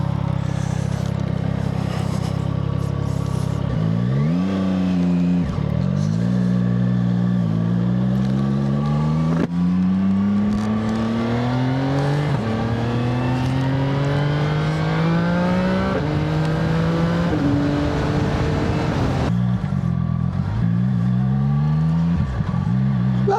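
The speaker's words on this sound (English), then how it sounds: "CF Moto 675 SRR. Let's give this some thrash." A CF Moto 675 SR-R sports motorcycle revs hard and climbs repeatedly through gears, engine pitch rising and dropping in sweeping surges, loud and close throughout.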